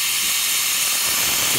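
Steam hisses steadily from the steam tip of a Breville BES840XL espresso machine, a loud, continuous broadband rush with no talking.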